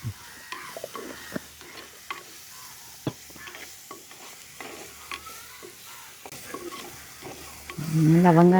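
Onion frying in a pan of oil with cumin and fennel seeds while a spoon stirs and scrapes in scattered clicks and knocks, then the sizzle swells loudly near the end as cooking intensifies, village-style home kitchen.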